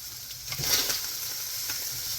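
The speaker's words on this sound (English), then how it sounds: "Now you can hear the Spam is starting to cook in there" Spam frying in a pan, a steady close sizzle with faint crackles running throughout, no voices.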